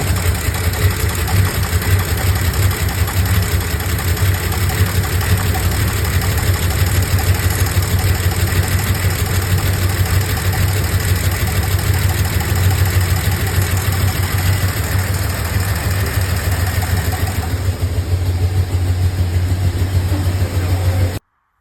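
A Ford F250 truck engine idles steadily after a carburetor adjustment, a loud, continuous low rumble held close for the whole stretch with no talk over it.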